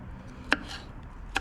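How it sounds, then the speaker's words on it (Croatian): A knife slicing bell pepper into strips on a cutting board for fajitas, two crisp close chops about a second apart in a quiet room. "Papriku na trakice narežemo."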